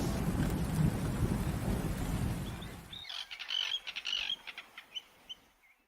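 Rumbling thunderstorm with steady rain used as a weather sound effect, a loud low roar for about three seconds that cuts off into quieter bird chirps and tweets with no talk.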